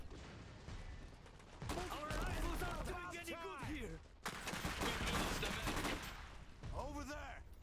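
Dense rifle and gunfire bursts from the real-time strategy video game Iron Harvest, loud crackling volleys filling the clip with a brief gap midway, while players talk excitedly over the shooting.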